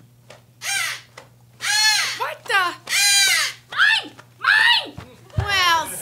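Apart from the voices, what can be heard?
crow cawing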